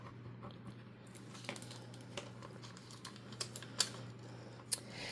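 Vinyl transfer tape being scraped down onto a craft blank with a scraper tool makes a series of soft, quick scratchy strokes and small clicks at close range in a quiet room.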